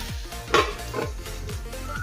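A lid is set on a frying pan of okra and potatoes. A brief metallic clank is heard, then a softer knock, over faint kitchen noise and a low steady hum.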